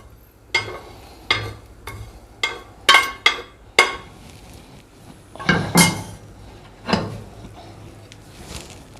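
Spices roasted for a Sindhi chicken karahi tipped onto a plate, giving a run of sharp clinks and clatters of metal and crockery, spaced irregularly and fairly close, with no one speaking.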